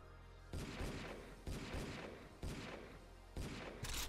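Gunfire from a gun in the Deer Simulator video game: four sharp, evenly spaced shots about a second apart, each with a short decaying tail, loud and close, with no talk over them.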